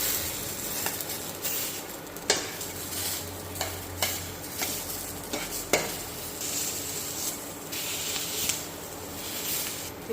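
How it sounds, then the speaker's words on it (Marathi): Onion roasting in oil in a pan on a gas stove sizzles steadily up close, broken by repeated sharp spatula scrapes and stirring clicks. "आता आपल्याला कांदाही छान असा भाजून घ्यायचा आहे।"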